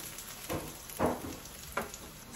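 Mushrooms fry quietly in a pan, giving a soft sizzle with a few distinct bursts and clatters as pieces are moved and flipped, with no talking.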